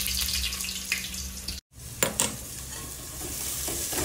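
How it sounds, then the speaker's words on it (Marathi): Sliced onions sizzling in hot oil in a pan while cooking mutton biryani, a close, steady hiss broken by a brief silence, then stirring clatters and continued frying. "कांदा भाजतोय"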